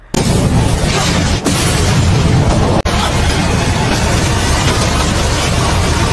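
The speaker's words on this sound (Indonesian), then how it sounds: "Terjadilah ledakan yang dahsyat yang asapnya menutupi semua orang" A loud, sustained blast of roaring noise from a huge explosion in an animated fantasy series keeps rumbling with brief sharp cracks breaking through.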